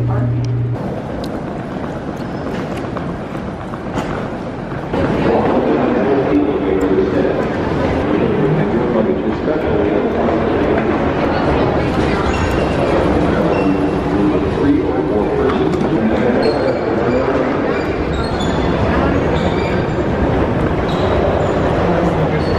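Ride on an airport air train, with a steady, loud rolling rumble and rushing noise that swells after a few seconds and continues under people talking.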